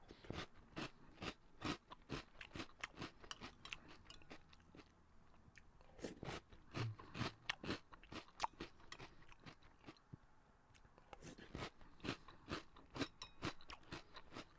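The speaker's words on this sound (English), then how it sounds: "That's pretty crunchy." Crunchy cereal in milk being chewed up close, a rapid series of sharp crisp crunches and bites in an irregular rhythm, alone without talk.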